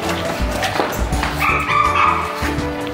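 Dogs bark and yip in short bursts close by, with one dog eager to fight the others, amid some whimpering and background voices.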